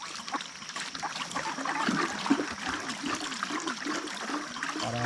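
Natural spring water splashes and trickles into a duck pool on a farm on a cool morning, a soft continuous gurgling flow with no talk.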